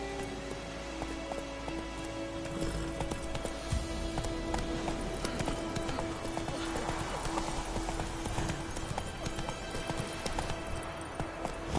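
Roach the horse galloping in The Witcher 3, a fast continuous clip-clop of hooves with a rain-like patter and game ambience throughout, steady and fairly loud.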